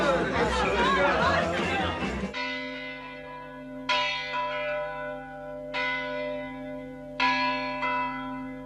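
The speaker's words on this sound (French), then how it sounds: "Il y a 28 ans que je sonne les cloches" Crowd chatter gives way to church bells ringing, several resonant strikes spaced a couple of seconds apart, each ringing out and slowly fading.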